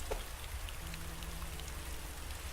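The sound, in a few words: rain falling in the video game Starbound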